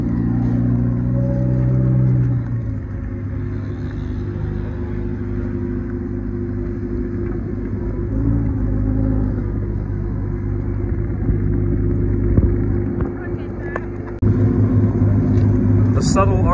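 A McLaren Sabre supercar engine starting up and settling into a deep, steady idle rumble, with a change in pitch partway through and a louder surge near the end.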